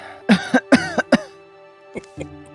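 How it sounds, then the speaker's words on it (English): A game character gives a series of harsh coughs in close succession in Wildermyth, followed by a couple of fainter, softer coughs after a brief pause. "Except for Nathan, I think you're coughing here, buddy"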